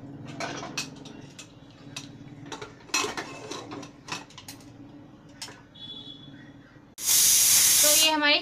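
A pressure cooker cooking half a cup of rice with soybeans and peas on a gas stove: scattered clinks of utensils and dishes first, then a loud, sharp hissing whistle bursts out at the end.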